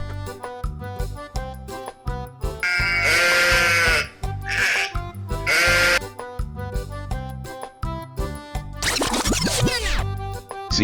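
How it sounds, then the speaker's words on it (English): A sheep bleats in three loud wavering calls, then a final high squeal slides downward, all set against bouncy background music. "Sheep."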